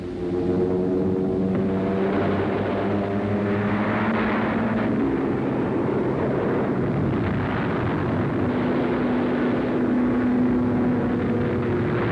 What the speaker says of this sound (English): Now, American carrier-based planes go aloft to destroy valuable shipping